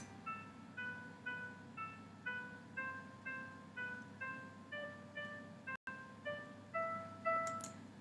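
Short ascending musical sequences ring out, bright chime-like notes in repeated rising patterns that step higher each time, played alone at a moderate tempo.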